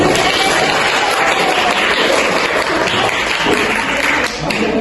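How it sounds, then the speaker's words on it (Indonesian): Classroom applause from pupils during a fourth-grade teaching simulation, dense and steady clapping filling the room at close range for several seconds, with a brief dip near the end. "Kita tepuk tangan."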